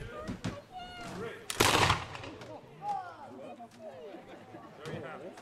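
A soldier reenactor fires a muzzle-loading gun: one loud, sharp blast about a second and a half in, with a short rumbling tail, set between people talking before and after.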